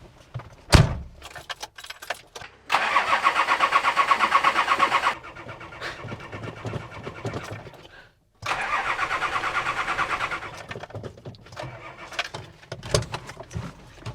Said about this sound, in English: And now by turning this off, the car should just crank over and shouldn't actually start.